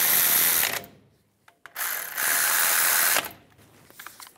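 On a 2007-2013 Chevy Silverado 1500, a hand ratchet tightens the front brake caliper bolts in two long runs of rapid, close clicking, with short pauses between them.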